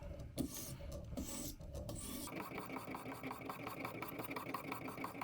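A pocket knife is drawn across a 220 grit sharpening stone in repeated rasping strokes, first slow and separate, then a fast, steady scraping rhythm, close and fairly quiet with no talking.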